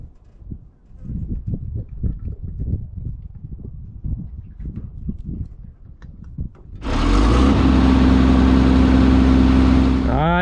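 A newly serviced farm tractor engine catches after cranking and settles into a loud, steady idle with a low throbbing drone, following several seconds of quieter knocking and handling sounds.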